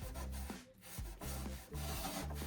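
Stain scrubbed with The Pink Stuff cleaning paste, heard as rhythmic back-and-forth rubbing strokes, close and fairly quiet, about five passes with short gaps between them, no talk.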